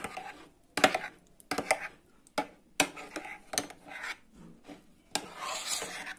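Taco sauce made with mustard and ketchup is stirred, giving close, quiet scraping strokes of a utensil against the container in irregular bursts separated by short pauses, with no talking.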